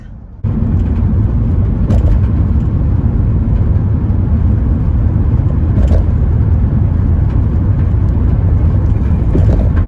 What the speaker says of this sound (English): I am literally driving through Portland right now